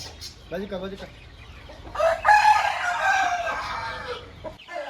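After a few brief clucking sounds, a rooster crows loudly and close by, one long drawn-out call that ends abruptly.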